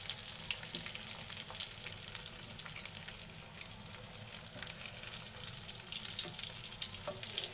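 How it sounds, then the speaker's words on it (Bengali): A spice paste sautés in mustard oil in an old kadai for a koi fish curry, a continuous soft sizzle and hiss with scattered faint stirring scrapes, fairly quiet and steady throughout. "মশলা ওদিকে কষানো শেষের দিকে"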